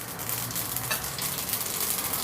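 Mustard seeds sizzling in a spoonful of hot oil for tempering a Gujarati chili and raw mango relish, a steady dense crackle with light popping throughout, with no voices.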